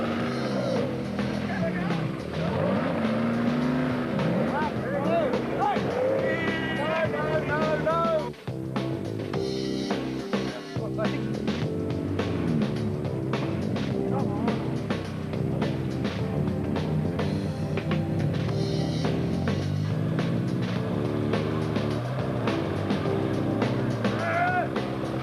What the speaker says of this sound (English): The leading cars churn up sand in a dry riverbed